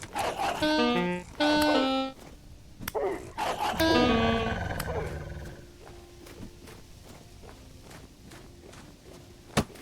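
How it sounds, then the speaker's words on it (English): A white wolf in a video game lets out loud, harmonic roaring cries in a couple of bursts near the start, then fades into quieter game ambience and soft footsteps, with no talking. "Unless I'm about to be snuck up on by a white wolf."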